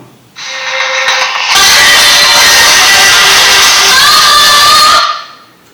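An iTel Power 900 keypad phone's small speaker plays loud FM radio audio that sounds like a roaring crowd, following a quieter hissy lead-in, then cuts off abruptly.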